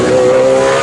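GT race cars, a Lamborghini and a McLaren, howl past at Snetterton circuit, a loud sustained high-revving engine drone close by, with no talk over it.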